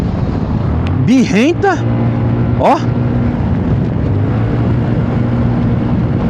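A Zontes 368G motorcycle fitted with a Malossi kit and full remap roars through sharp rising revs in two quick bursts and one more, over a steady idle, with a voice speaking briefly.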